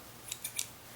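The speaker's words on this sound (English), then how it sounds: "These are Muji scissors, so they actually come in a very compact sort of packaging with a clip on it. And it's spring-loaded," Compact spring-loaded Muji scissors snip paper three times in quick succession, crisp and close against a faint background hiss.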